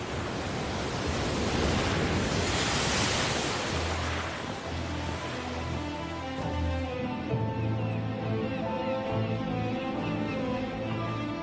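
Rough North Sea waves surge around the island of Helgoland, a loud, continuous wash of surf and wind that eases partway through and gives way to a calmer, steadier roar.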